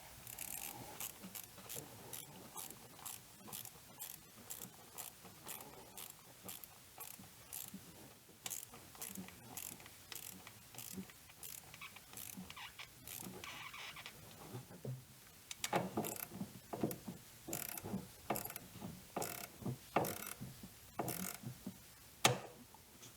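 A hand ratchet tightens valve cover bolts on a BMW E46 330i, producing rapid, regular metallic clicks in repeated bursts that grow louder and more forceful toward the end, heard close with no talking.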